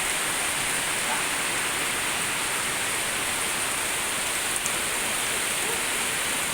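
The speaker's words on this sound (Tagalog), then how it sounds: "Kasalukuyan pong humaraga sa ang ulan dito sa La Trinidad." Heavy rain pours down in La Trinidad, a dense, steady hiss of downpour drumming on surfaces, loud and unbroken with no voices heard.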